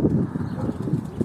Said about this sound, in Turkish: Biri kuş uçuruyor arkada.